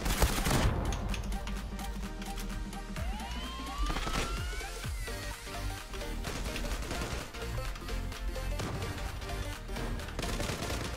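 Rapid suppressed gunfire in a shooter video game, repeated sharp bursts across the stretch among other in-game noises, loud and close.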